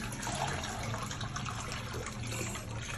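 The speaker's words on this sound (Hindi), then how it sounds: "ले जी पानी डाल दिया।" Water poured into a pigeon cage, a steady continuous splash and trickle filling a container, close and fairly even throughout with no talking.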